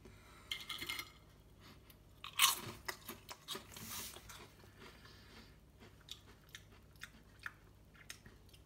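Tongari salted caramel corn crisps are bitten and chewed close up, giving a loud crunch near the start and then a string of softer, irregular crunches with no talking.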